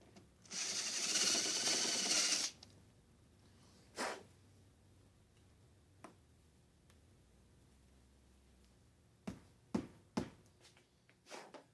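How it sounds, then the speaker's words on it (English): Step bit drilling through metal while fitting an ARB Safari snorkel: a loud two-second drill whine up front, then scattered short clicks and scraping bursts with quiet gaps. "This is where a step-up bit comes in handy"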